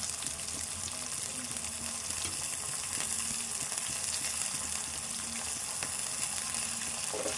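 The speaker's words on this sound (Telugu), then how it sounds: "ఇప్పుడు ఇవన్నీ వేపుకోవాలి. కొత్తిమీర కూడా వేసుకోవాలి." Peanuts, chana dal and coriander fry for idli upma with a steady, dense sizzle of hot oil that holds constant and fairly close throughout.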